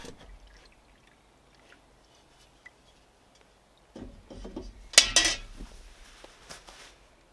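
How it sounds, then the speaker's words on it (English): Liquid is strained through coffee filters to remove flowers, with faint scraping and clinking of utensils against containers. A louder cluster of rubbing and clattering comes midway, set against quiet near-silence. "The idea now is to strain off the flowers using coffee filters"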